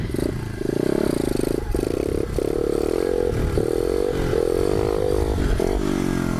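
A pit bike engine revs hard and steadily during a wheelie, loud and close, with a buzzy droning tone that rises and dips and some rattling clatter.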